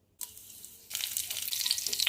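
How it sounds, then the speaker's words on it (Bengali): Sugar, dried red chilli, cumin and bay leaf drop into hot oil left from frying potatoes for a Bengali fish-head dish, a soft sizzle starting abruptly and then flaring into a loud, crackling hiss that holds steady. "আলু ভাজা তেলে দেব চিনি, শুকনো লঙ্কা, জিরে আর তেজপাতা"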